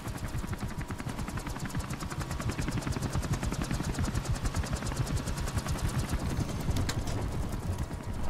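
Sustained rapid automatic gunfire in a Call of Duty: Modern Warfare Remastered match, a dense, continuous rattle of shots at steady loudness with no talk.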